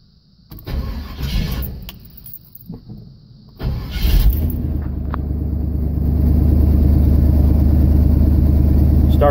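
A 1977 GMC K15 truck, recently running on a bad tank of gas, is cranked on a warm day without the choke. A few seconds of cranking lead to the engine catching, followed by a loud, steady idle that grows stronger.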